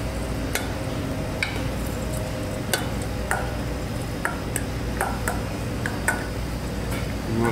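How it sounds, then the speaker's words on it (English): A spoon stirs a warm stuffed tomato filling of breadcrumbs and cheese in a bowl, making soft scraping and light irregular taps against the dish over a steady kitchen background hum, with no speech. "We'll mix that up."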